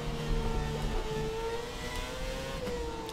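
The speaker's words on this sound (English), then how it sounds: "I'll just shut up for you guys to appreciate the noise of the car." The Haas Formula 1 car's engine in F1 2017 at the Italy Grand Prix: a steady, buzzing high-revving drone with shifting pitch, heard alone without talk.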